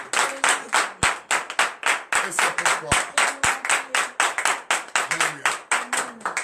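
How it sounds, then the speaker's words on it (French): Church congregation at a morning prayer service in Benin clapping in a fast, steady rhythm of sharp, loud claps, with a voice speaking over the beat. "Donnez l'acclamation à Jésus"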